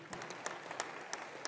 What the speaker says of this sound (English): there's a lot of claps for Bill